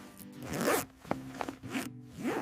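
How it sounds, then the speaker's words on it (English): A jacket zipper is pulled open in several quick, close rasping strokes with short pauses between them. "I take off my jacket."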